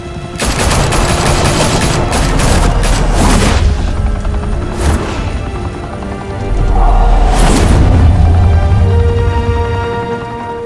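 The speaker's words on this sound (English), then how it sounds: "Open fire!" Gunfire and explosions fill an animated Batman episode, with loud, dense bursts of shots and booms in two heavy waves, a brief lull between them.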